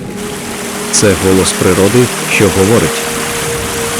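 A mountain stream in the Carpathians rushes in a steady, even wash of water that carries on beneath a person speaking throughout.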